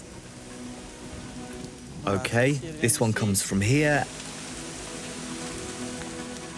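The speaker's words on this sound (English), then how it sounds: "It's starting to rain, which is perfect for the frogs." Light rain begins falling outdoors, a soft steady patter of drops that continues under a short stretch of nearby talking.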